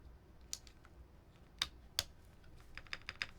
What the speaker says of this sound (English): flip this guy around and let's get these keycaps on